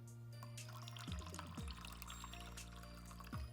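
Lemon juice is poured into a foamy lather of cleanser in a science demonstration, giving a short watery trickle and splash with a few drips under a steady background hum.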